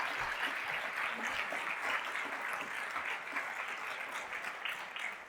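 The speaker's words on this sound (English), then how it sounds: "Ladies and gentlemen, another round of applause, please, for Lorenzo Davids." An audience applauds at a community conference, a sustained, even roll of many hands clapping for several seconds from a sizeable crowd, heard from a little distance with no speech over it.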